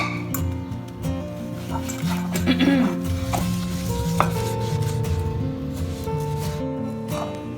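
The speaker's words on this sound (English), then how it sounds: "I'm just scrubbing it gently at first and putting a little bit of pressure" A stainless steel tri-ply pan is scrubbed with an abrasive scrubber, giving soft, irregular rubbing and scraping strokes with occasional clinks of metal, while a person talks over it.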